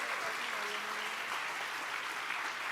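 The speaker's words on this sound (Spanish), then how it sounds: "Dale fuerte el aplauso a Cristo si tú lo crees" A church congregation applauds, a dense continuous wash of many hands clapping at steady loudness throughout, with a faint voice murmuring underneath.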